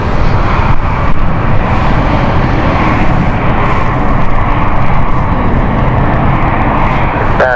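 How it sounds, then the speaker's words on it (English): Passenger airliner on the Zurich flight rolling along the runway at London City Airport, a loud, steady broadband engine roar that holds evenly throughout with no one talking. "the Zurich flight, which is just coming right now, will actually take the same place normally of the Geneva flight"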